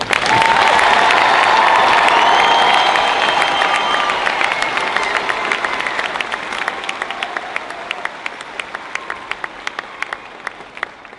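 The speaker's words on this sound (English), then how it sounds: "Please join me in a loud round of applause for our 2018 graduates." Loud sustained applause and cheering from a large crowd of parents, family and friends at a 2018 high school graduation ceremony, strong at first and then slowly thinning into scattered individual claps.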